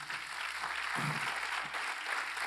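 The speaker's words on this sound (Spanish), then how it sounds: "Denle un aplauso al Señor." A church congregation applauds during a Holy Week service, a steady, hissing wash of many hands clapping at a distance, fairly faint and continuous throughout.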